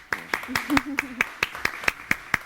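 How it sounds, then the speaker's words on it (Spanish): A few people clap for a guest on a health talk show: about a dozen sharp, separate claps in a loose rhythm, close by, with a brief voice underneath early on. "Un aplauso para nuestro invitado."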